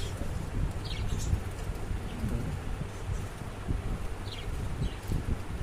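Budgerigars in a colony cage outdoors give a few short high chirps over a constant rustling, windy background, faint and somewhat distant.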